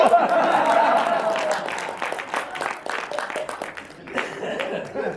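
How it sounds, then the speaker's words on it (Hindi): Audience applause at a Hindi comic poetry recital (kavi sammelan), a dense burst of many hands clapping that swells early, thins out, then rises again briefly with a few chuckles mixed in. "बात समझ जाओ तो तालियां बजा देना"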